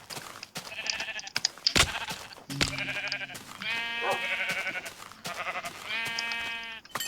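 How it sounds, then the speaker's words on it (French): Sheep in the Minecraft video game bleat repeatedly, with several wavering, buzzy bleats close together over a steady background of game sounds. "Ah, tiens, un mouton là-bas."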